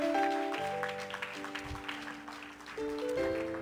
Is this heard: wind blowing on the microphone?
no